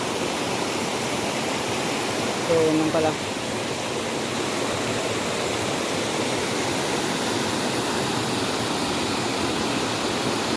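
Loud, steady roar of a waterfall in Bataraza, Palawan, close and continuous, with someone speaking briefly over it.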